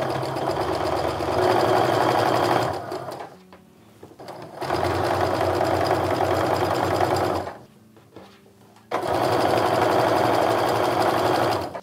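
A sewing machine stitches quilt rows for a fall maple leaf log cabin quilt in three loud sustained bursts of whirring, separated by short pauses, with no talking.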